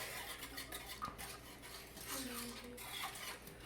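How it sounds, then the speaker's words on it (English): A whisk scrapes and clinks against a pan over medium heat as lemon curd for a lemon tart is stirred, soft rhythmic metallic strokes at close range, fairly quiet, with no talking. "So I'm going to turn this on medium heat, and I'm going to whisk."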